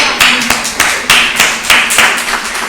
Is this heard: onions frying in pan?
no